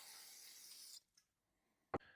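A close hiss of cleaner sprayed from an aerosol can onto a Toro push mower carburetor lasts about a second, then stops, followed by a faint knock.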